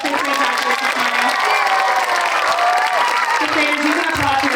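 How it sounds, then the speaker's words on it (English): A crowd at an elementary school fifth grade graduation claps and cheers steadily and loudly throughout, with voices mixed into the applause. "Let's give one more round of applause for our fifth grade graduates this morning."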